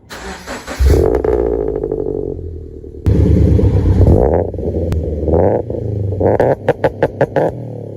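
A Cosworth-supercharged Toyota FR-S with a custom exhaust and ball-type resonator starts up and revs loudly up close, deep engine roar rising and falling through several throttle blips, ending in a run of short sharp rev bursts.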